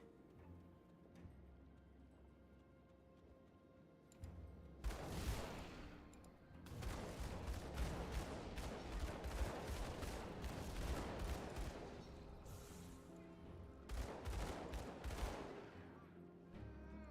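Rapid gunfire in the action game Grim Dawn, bursts of sharp, fast shots that start abruptly after a quiet stretch, run densely for several seconds, pause, then return in a final flurry.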